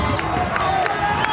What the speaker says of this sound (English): Wow, the St Andrews crowd is loud.